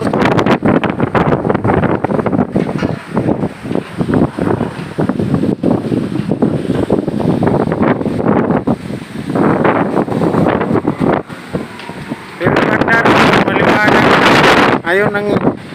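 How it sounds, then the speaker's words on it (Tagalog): Strong storm wind in Ilocos Norte blows into the microphone as a constant loud roar with gusting surges and buffeting, and a voice speaks near the end. "Lakas ng hangin ito na."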